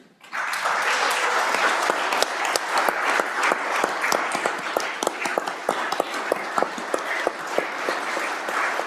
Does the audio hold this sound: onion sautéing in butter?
no